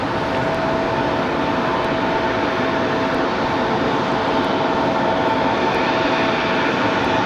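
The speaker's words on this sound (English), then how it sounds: "There's our A321 from Charlotte." An Airbus A321 airliner arriving from Charlotte at Raleigh-Durham airport gives a loud, continuous broadband engine rumble that stays steady throughout, a dense wall of jet noise with no pauses.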